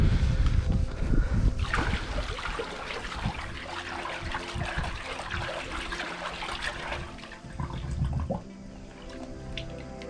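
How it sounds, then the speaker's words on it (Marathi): Water splashes and trickles steadily close by, a continuous wet gurgle with bursts of sloshing, as a container is filled from a rock-cut water tank at Kalavantin Durg fort. "पाण्याचं टाकं आहे इथे एक टाकं आपल्याला मिळालेलं आहे ते पाणी तर आहे पाणी भरून घेतोय"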